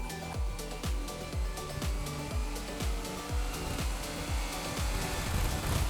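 A Honda CBF1000 Japanese four-cylinder motorcycle engine runs steadily with a rapid, even mechanical pulsing and a broad roar, recorded fairly faintly and without speech.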